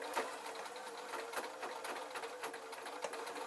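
A sewing machine strains while stitching a tiny earphone case, its rapid mechanical chatter continuous and fairly quiet, with faint irregular clicks.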